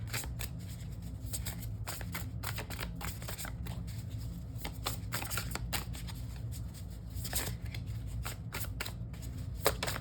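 Tarot cards shuffled and drawn from a deck in a quiet room, a steady run of crisp riffling flicks and snaps close by, with no voices.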